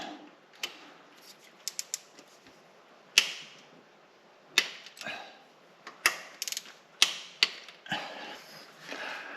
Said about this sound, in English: Right, according to this torque wrench, those are all at 19.